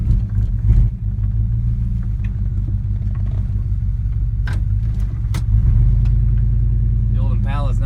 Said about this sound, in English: The old Impala is not a bad way to travel from farm to farm.